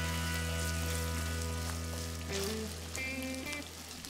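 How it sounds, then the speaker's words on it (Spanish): Sausages and bell pepper frying in a pan for frijoles charros, a continuous crackling sizzle like light rain under a steady hum, with a few faint stirring taps; no talk. "Así que lo revolvemos bien y agregamos las salchichas."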